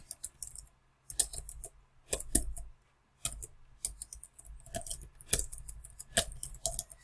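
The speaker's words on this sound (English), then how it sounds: "the first thing I'm going to do is just type in my name" Typing on a computer keyboard: quick bursts of close, crisp key clicks separated by short pauses, with no voice.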